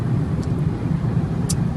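A 2013 Fiat Punto with Dualogic transmission drives along, its steady low engine and road rumble filling the cabin, with a couple of faint light clicks.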